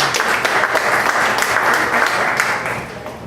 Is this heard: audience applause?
yes